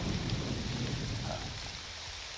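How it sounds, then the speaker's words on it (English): Steady rain in the video game Morrowind during a thunderstorm, a continuous broadband hiss with a low rumbling swell early on that eases off, heard alone without talk. "Ooh, a thunderstorm even."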